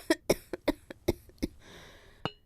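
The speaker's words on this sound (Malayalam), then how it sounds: "ഈ ചുമയാ സഹിക്കാൻ വയ്യാത്തെ" Repeated harsh coughing from a person sick with fever, about six close bursts in quick succession followed by a pause and one final cough, nearby and fairly loud.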